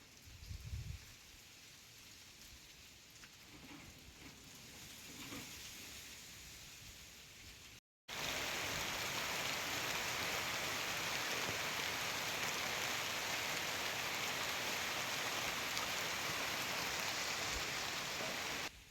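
Steady rain pours down on a monsoon day, a dense even hiss that is quieter and patchier at first, then cuts out briefly and returns loud and unbroken for the rest.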